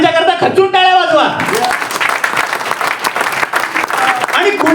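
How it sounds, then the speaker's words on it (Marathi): Loud applause from a crowd at a business training event, dense clapping that swells in after a brief burst of sound and continues steadily throughout; talk may sit faintly underneath. "सगळ्यांच्या करता खचून टाळ्या वाजवा."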